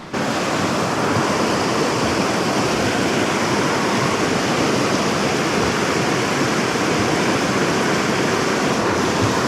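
A mountain river flowing through remote backcountry trout water, a steady loud broadband rush of water that continues without a break and has no voices over it.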